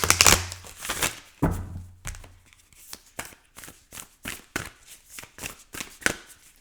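Black Moon astrology cards being shuffled by hand during a tarot reading, a run of quick riffling bursts and soft slaps that repeat in a steady rhythm, close and fairly loud with no talking.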